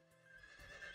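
A horse whinnies in the Emergency 4 Norfolk & Suffolk mod, giving one short, faint neigh that lasts about a second against a quiet background.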